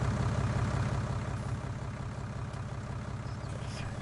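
A tractor resembling a Fendt, in the video game Farming Simulator 19, idles with a steady low engine rumble that stays even and continuous throughout.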